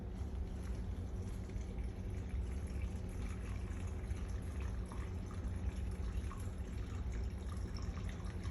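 Warm water running from a sink tap into an enema bag, a steady, fairly quiet rushing and trickling flow that continues evenly without talking.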